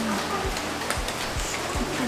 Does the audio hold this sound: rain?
yes